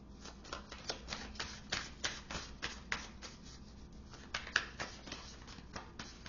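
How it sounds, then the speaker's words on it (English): Tarot cards being shuffled by hand, a steady run of crisp riffling bursts and soft flutters repeating about twice a second, fairly quiet and close, with no talking over it. "So I'm going to do a shuffle here"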